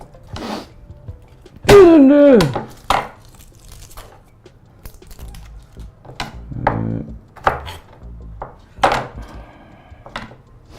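Garlic is chopped with a knife on a wooden cutting board during cooking of chicken adobo, sounding as scattered sharp thunks and taps, with a louder burst early on and quieter irregular knocks after.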